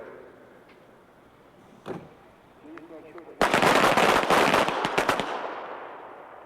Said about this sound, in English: when the target faces you, you'll have 3 seconds to draw your weapon, fire 2 shots, and return the weapon to the holster